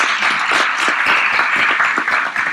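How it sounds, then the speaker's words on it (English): Dense applause and clapping from an audience at a non-profit pitch symposium, steady and fairly loud throughout, with individual claps standing out and no voices heard. "Let's give Cara a big round of applause, everyone."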